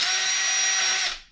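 A power drill whines loud and steady at high pitch for about a second, opening up holes in a galvanized flange, then spins down quickly.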